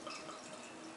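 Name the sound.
pouring Harveys Imperial Extra Double Stout beer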